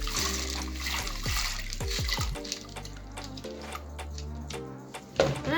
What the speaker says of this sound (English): now I'm gonna put the peas into the 7 cups of water